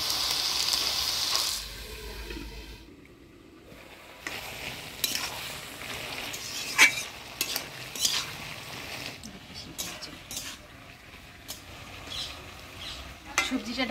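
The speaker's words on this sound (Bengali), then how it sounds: "এবার অল্প জল দিয়ে ঢাকা দিয়ে দিব।" Cauliflower and vegetables cook in a pan after a little water goes in: a brief loud hiss, then quieter sizzling with intermittent scraping and clanks of stirring, close by.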